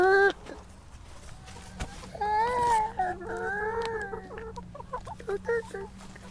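Backyard chickens cluck and squawk close by in short, irregular bursts over a low steady hum, with a brief voice near the start.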